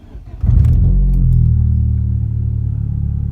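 A 5-speed car with 129,000 on the clock that had sat for nearly two weeks cranks briefly and then fires up at once, settling into a loud, close, steady rumbling idle.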